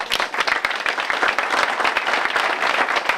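A crowd at a council member's event gives a round of applause, with many hands clapping loudly and continuously and individual sharp claps standing out from the dense, even roar.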